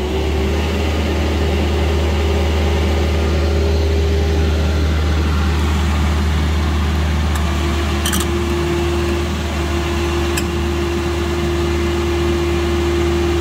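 The engine of a Marini MRP 350 remote control piling rig runs with a steady loud mechanical drone and constant hum, and its pitch shifts gradually as the RPM is raised. A couple of brief clicks occur near the end.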